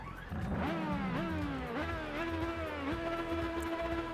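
A sports car engine in the video game Test Drive Unlimited 2 revs up repeatedly, pitch climbing and dropping between gear shifts, a loud, steady whine close by with no talking.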